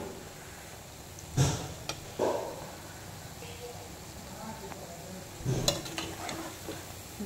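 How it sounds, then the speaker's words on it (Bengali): Sweet palm fritters sizzling quietly in a pan as they finish frying, with a few sharp clinks and scrapes of a utensil lifting them out, and a voice faintly present. "ভাজা হয়ে গেছে আমার বড়া"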